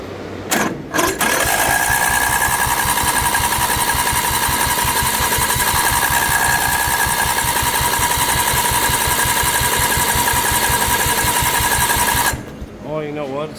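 A Craftsman II lawn tractor with a swapped-in newer engine chugs loudly with a fast, even rhythm for about twelve seconds before cutting out abruptly.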